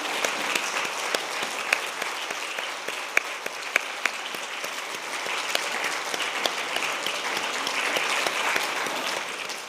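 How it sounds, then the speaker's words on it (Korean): A church congregation at a Wednesday worship service gives warm applause of thanks, with even, continuous clapping with a few sharp individual claps standing out, moderately distant. "뜨거운 감사와 격려의 박수 하도록 하겠습니다"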